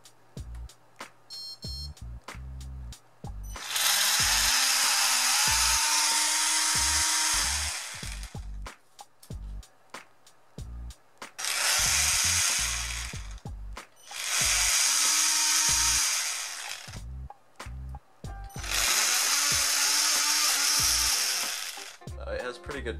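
Homemade brushless DC inrunner motor running in repeated bursts, each a whirring buzz that spins up, holds a steady whine and winds down, with speech in the quiet gaps between runs.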